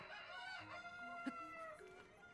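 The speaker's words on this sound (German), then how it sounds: "Also hier ist wieder ein Huhn unterwegs." Chickens in the video game Zelda: Tears of the Kingdom cluck and crow softly in the background, with a brief sharp squawk in the middle. The sounds are faint and close together, and nobody talks.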